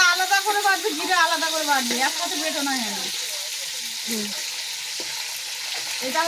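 Fish and potato curry sizzles and spits steadily in a hot pan, with a voice talking over the frying during the first half.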